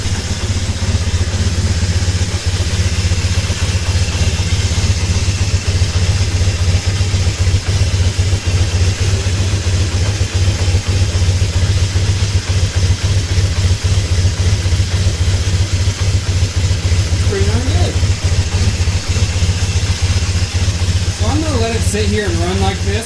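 A 1978 Kawasaki KZ750 motorcycle, its cylinders fogged with oil, idles with a steady, loud low rumble that carries through the whole stretch, while someone talks over it.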